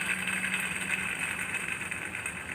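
A brush cutter or grass trimmer engine runs with strong vibration. It holds a steady, buzzy, high-pitched drone nearby for the whole stretch, without voices.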